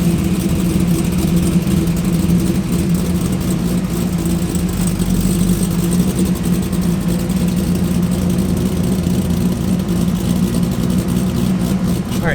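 Corvette Z06 engine running steadily with a deep, loud rumble at a constant idle-like pitch, unbroken for the whole stretch.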